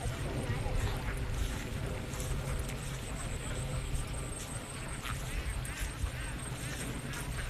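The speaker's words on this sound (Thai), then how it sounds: "เป็ดไล่ทุ่งที่หนองจอกนะคะ" Free-range ducks foraging across a rice field in Nong Chok, with busy, continuous outdoor noise and scattered quacks under someone talking nearby.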